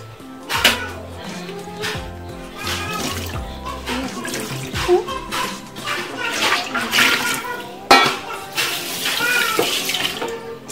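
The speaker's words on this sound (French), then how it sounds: "je vais ajouter l'eau à l'intérieur juste le temps que ça gonfle un peu" Tap water poured over pistachio seeds in a home kitchen to soak, splashing and running in bursts, close and fairly loud, with clinks and background noise around it.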